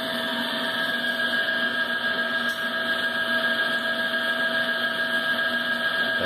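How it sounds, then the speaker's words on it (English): A 5 horsepower electric motor runs at a steady, even pitch with a constant hum and whine, loud and close, and nobody talks over it. "So here's the 5 horsepower electric motor."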